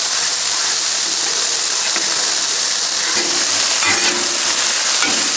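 Cheesesteak vegetables fry on a Blackstone griddle in a loud, continuous hissing sizzle, with a few soft scrapes and taps of a spatula moving them around, no voices.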